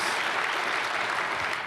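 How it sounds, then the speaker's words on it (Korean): A church congregation at a Sunday worship service applauds the choir with steady, dense clapping that fills the whole stretch without a break. "우리 성가대 박수하겠습니다"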